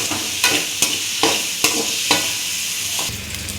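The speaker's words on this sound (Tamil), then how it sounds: "இது எல்லாமே போட்டு கொஞ்சம் நல்லா வணக்குறோம்" Onion, garlic, ginger, cumin and fennel sautéing in oil in a pan for brinjal kuzhambu, with a steady sizzle broken by about seven regular scraping stir strokes of a spatula.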